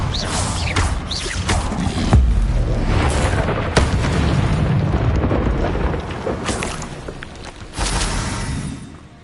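Incendio fire spell cast in Hogwarts Legacy on PS5, a dense roaring blast of game combat with repeated booming bursts and crackling impacts, loud and continuous throughout under a busy mix.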